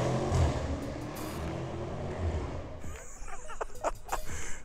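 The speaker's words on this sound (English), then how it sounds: "Range Rover SVR from yesterday with a Quicksilver exhaust" A Range Rover SVR with a Quicksilver aftermarket exhaust revs loudly with a rough, rumbling exhaust note, then drops back to a crackling, popping idle.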